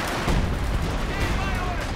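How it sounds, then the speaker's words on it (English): Gunfire in a Company of Heroes 2 battle between US Forces and OKW, a dense burst of loud rifle and machine-gun shots crackling over low rumble, with voices shouting over it. "We're taking fire!"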